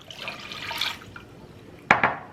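Water is poured from a cup into a pan of sugar for cranberry sauce, a soft trickling splash followed by two sharp clinks near the end.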